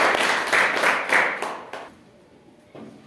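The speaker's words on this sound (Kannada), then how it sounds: "ಎಲ್ಲ ಮಕ್ಕಳು ಜೋರ ಚಪ್ಪಾಳೆ ತಟ್ಟಬೇಕು." Schoolchildren clap loudly together at a quiz event, a burst of brisk, crowded applause that fades out after about two seconds before a few claps start again.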